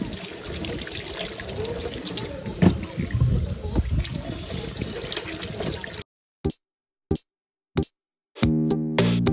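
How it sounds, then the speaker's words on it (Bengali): Tap water runs steadily into a sink as vegetables are washed under it, a close, full rush for several seconds that then stops, leaving a few short knocks and clatters. "চলো ধুই সবজিগুলো টুকটুক করে"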